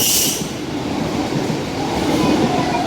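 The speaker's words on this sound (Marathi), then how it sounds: "इथनं फास्ट होती का ट्रेन? तिकडनं जाणार आहे फास्ट." A Mumbai suburban local train rumbles past close by, a dense steady roar of wheels and carriages with a hiss at the start, no talking.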